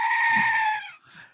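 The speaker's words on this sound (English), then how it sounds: "It's a goat." A goat gives one loud, close, drawn-out bleat lasting most of a second, followed by a short softer rustle.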